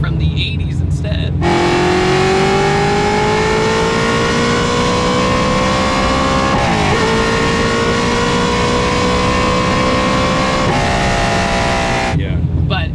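A 650-horsepower 1970 Chevrolet Camaro V8 idles, then revs and holds high, rising and dipping steadily before settling, loud and close with no pauses.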